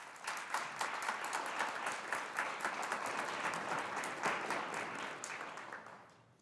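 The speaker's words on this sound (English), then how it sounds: "Please give yourself and all of your fellow graduates a well-deserved round of applause at this time." A graduation ceremony crowd claps for the graduates in a sustained burst of dense applause that holds steady, then tapers off at the end.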